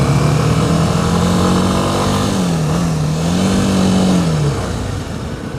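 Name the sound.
Kawasaki Ninja 250 SL motorcycle engine while riding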